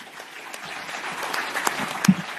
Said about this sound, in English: Let's clap hands for Barret.